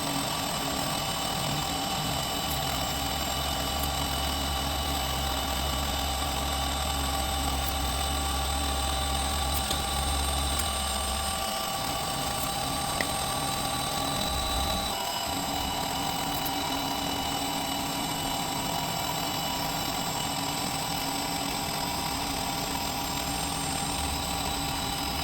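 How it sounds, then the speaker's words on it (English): A Hafco HM 54GV milling machine squares off an alloy plate with a continuous, even machining whine and motor hum, a brief dip in the low drone partway through. "what we're doing is just squaring off this alloy plate that I just cut up."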